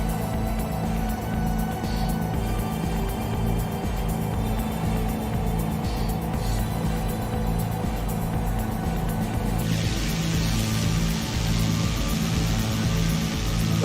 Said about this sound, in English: I can definitely hear you spooling up